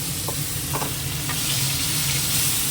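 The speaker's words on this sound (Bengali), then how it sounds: "একটু ভেজে নেবো পেঁয়াজটাকে আগে" Onion sizzles and crackles in hot oil with dried chillies and cumin, a steady close frying hiss with a few soft stirring scrapes.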